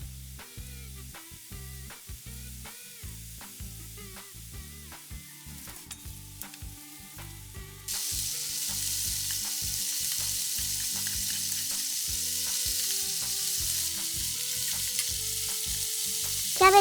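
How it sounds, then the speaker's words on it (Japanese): Cabbage and wiener sausages fry over medium heat in a pan, with clinks and stirring taps at first, then a loud, steady sizzle that swells and holds to the end. "キャベツとウインナーを中火でさっと焼いて"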